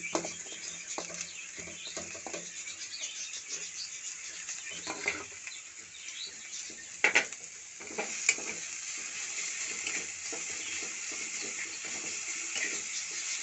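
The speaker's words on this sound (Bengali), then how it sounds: "একটু তেল বেশি লাগবে এঁচড়ো ভাজতে তাও অল্প অল্প তেল দিয়ে ভেজে নেবেন" Young jackfruit, rubbed with salt and turmeric, frying in a little oil: a continuous soft sizzle and crackle nearby, broken by occasional stirring clatter and a couple of louder knocks, with no voices.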